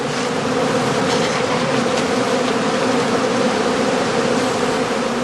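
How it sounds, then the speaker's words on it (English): Dense, steady buzzing of many honeybees around straw winter skeps whose combs reach down to the spiles, a continuous close swarm drone with no pauses. "Bees which have flown away will collect in the winter skeps"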